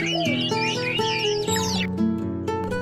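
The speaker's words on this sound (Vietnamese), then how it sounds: "À, các con nghe được tiếng chim hót líu lo." Small birds chirp and trill in quick, sweeping calls over steady background music, close and fairly loud for the first two seconds, then thinning out.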